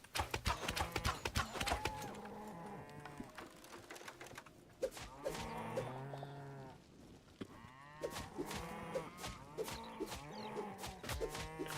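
Cattle in the video game Hytale move about with a busy run of hoof clip-clops and repeated lowing moos, close and fairly loud throughout, with a short quieter stretch in the middle and no talk.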